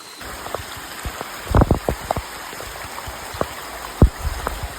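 Rain falls steadily beside a river at night, a continuous hiss of drops with scattered louder splashes and knocks rising above it.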